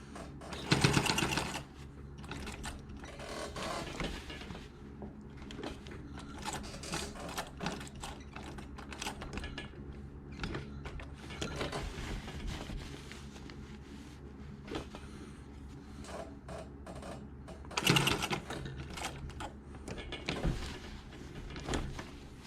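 A sewing machine stitches a shortened dress shirt sleeve in a fairly quiet room, running in bursts of rapid mechanical whirring and clicking separated by pauses and fabric handling.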